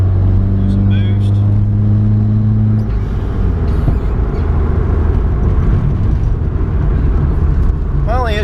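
Nissan S13 turbo convertible engine revving hard under boost while running rich, a loud steady roar with a droning tone early on that gives way to a broader rasp.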